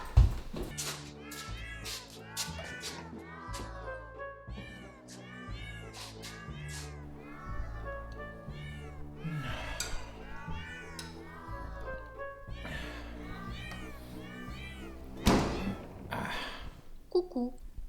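A cat meows over and over, loud and close, in a steady run of cries that lasts throughout, mixed with music and speech.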